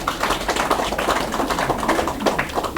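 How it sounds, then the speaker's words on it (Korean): Audience clapping at a forum opening ceremony: continuous, fairly loud rhythmic hand clapping from a group throughout the short stretch, with no voice over it. "박수합시다."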